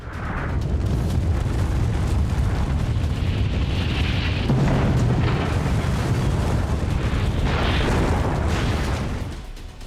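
The Soviet Union's first nuclear test, a plutonium bomb set off in Kazakhstan, produces a loud, continuous roaring rumble with crackling bursts. It lasts nearly ten seconds before fading.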